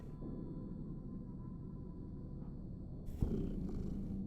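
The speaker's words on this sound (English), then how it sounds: "Oh, he's purring so loud." A video game cat purrs loudly and continuously up close, a low rumbling rhythm, with a brief rustle or bump near the end.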